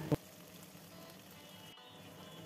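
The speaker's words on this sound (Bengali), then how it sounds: "আমি মশলাটাকে অল্প আঁচে কিছুক্ষণ কষিয়ে নেব" A spice paste with chopped tomato fries gently in oil over low heat, giving a soft, steady sizzle that stays faint and unbroken throughout, with a brief knock at the very start.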